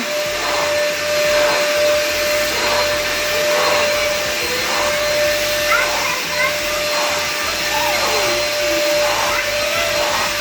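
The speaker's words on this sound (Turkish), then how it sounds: "Süpürgeyi aç süpür bakalım." A household vacuum cleaner runs steadily and loudly indoors during home cleaning, a constant whine with a steady tone, while children's voices and chatter rise faintly over it.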